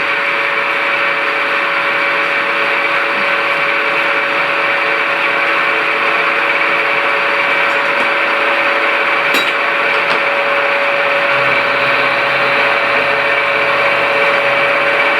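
An internal grinding machine cuts slots into a metal part, giving a steady, loud high-pitched whine with a constant hum that runs unbroken throughout, with a low rumble joining near the end.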